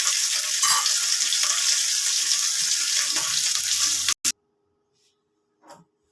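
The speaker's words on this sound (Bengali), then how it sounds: "আর একটা মাছ ভাজা হচ্ছে" Fish frying in hot oil in a home kitchen, with a steady loud sizzle and spatter that runs for about four seconds, then cuts off abruptly, leaving near silence broken by a couple of faint clicks.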